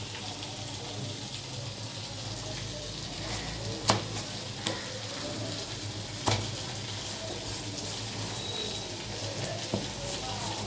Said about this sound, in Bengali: আলু পটল আর পেঁয়াজ দিয়ে ভাজা করছি সকালে রুটি খাওয়ার জন্য।